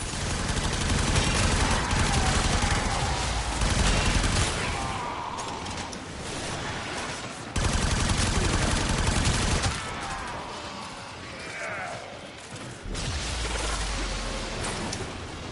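Warframe weapons fire in long, dense automatic bursts, each a loud roaring stream of rapid shots separated by brief pauses, with mechanical clatter and no voices heard.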